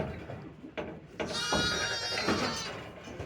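Farm sheep bleat in a pen at feeding time, with several loud, wavering calls close by, overlapping one another, and occasional thumps in the background.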